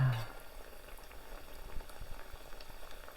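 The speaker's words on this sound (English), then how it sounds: "Now you only have to fry these like 3 or 4 minutes on each side." Chicken croquettes frying in a pan of hot oil, a steady close bubbling sizzle with crackling pops that runs throughout without any voices.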